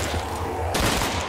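An FAL rifle fires in a Call of Duty custom zombies map, a loud close burst of gunfire cracking across the clip, alone without voices.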